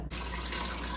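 Water poured into a blender container, a brief continuous splashing rush heard close and alone.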